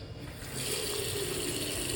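A bathroom faucet runs with strong pressure, a steady rushing hiss of water that swells up after the first half second and holds evenly, close and alone.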